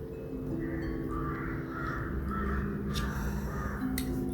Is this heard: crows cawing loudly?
yes